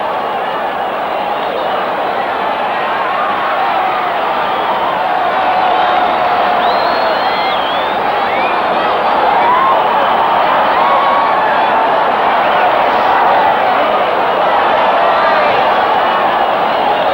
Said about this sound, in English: The crowd are getting very noisy.